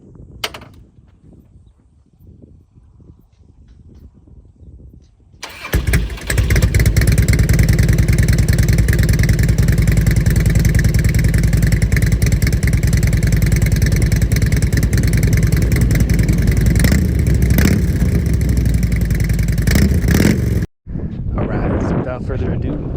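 After a few quiet seconds with some talking, a 2004 Harley-Davidson Road King starts abruptly and settles into a loud, close, rumbling idle that holds steady for about fifteen seconds before cutting briefly.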